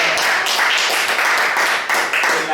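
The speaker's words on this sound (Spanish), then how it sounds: "que se merece el aplauso" A gathering applauds loudly and continuously, with dense overlapping claps filling the whole moment close to the listener and no talking heard.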